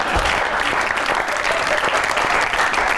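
Studio audience applause on a comedy talk show: a loud, continuous roar of many hands clapping, dense and even from start to finish, with no talk over it.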